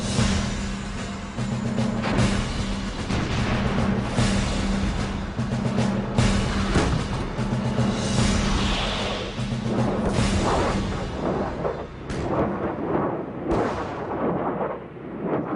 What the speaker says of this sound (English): One of their key weapons was the multiple launch rocket system.